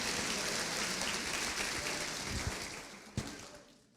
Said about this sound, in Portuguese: Gente, vamos aplaudir Jesus por eles.